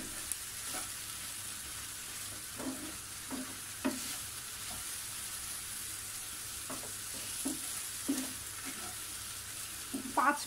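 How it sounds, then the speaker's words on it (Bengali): Chicken pieces and coconut frying in a pan for a home-style chicken curry, a steady close sizzle under light stirring with periodic scrapes of a spoon against the pan, no talking. "এখন এই নারিকেল আর এই মুরগিটা আমি ভালোভাবে আরও কিছুক্ষণ ভেজে নিব।"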